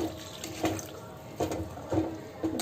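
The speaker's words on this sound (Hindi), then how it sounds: "और 1 कप पानी डालेंगे।" Water poured from a cup into a simmering raw banana curry with milk and spices, heard as a steady liquid splash with a few louder gurgling bursts, close and alone without talk.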